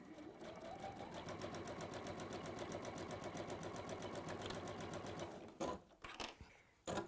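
A sewing machine runs steadily, stitching fabric to PU with a quarter-inch seam, its rapid needle rhythm continuous for over five seconds before stopping, followed by a few short handling bumps.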